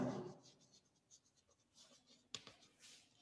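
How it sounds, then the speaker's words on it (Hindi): Marker or chalk writing on a board, faint quick scratchy strokes with a brief tap midway, very quiet and close, no speech over it. "अब देखो मैं यहां पे लिखता हूं डिक्लेरेशन"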